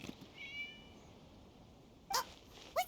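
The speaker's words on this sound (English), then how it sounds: "It was just a cat." A cat meows in the video game Genshin Impact, two short, fairly close meows near the end after a quiet stretch with faint earlier chirpy sounds, no speech.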